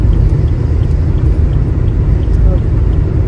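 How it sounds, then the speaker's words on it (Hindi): Steady low rumble of a car cruising fast on a highway during a long road trip, a constant road and engine drone with faint voices barely under it. "हम गाड़ी दौड़ा रहे हैं।"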